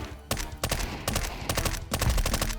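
Gunfire in Counter-Strike 2 Danger Zone mode, including a P90 submachine gun: several sharp bursts of shots in quick irregular succession, fairly close and loud, with no talking.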